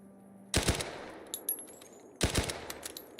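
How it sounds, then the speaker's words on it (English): Submachine gun fire in Fallout: New Vegas, two sharp bursts of rapid shots about two seconds apart, with a few scattered single reports between them, loud and close with no talking. "this is my submachine gun"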